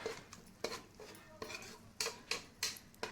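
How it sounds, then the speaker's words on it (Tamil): A spoon scrapes and clatters against a pan while chicken masala is stirred, in a series of sharp metallic strokes roughly every half second, close and quiet, with no talking. "கொஞ்சம் நேரம் நல்லா கிளறி விட்டுக்குவோம்."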